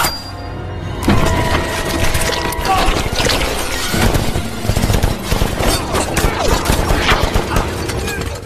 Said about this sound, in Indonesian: Lalu si pimpinan Yakuza menembakkan pistol ke sembarang arah saking paniknya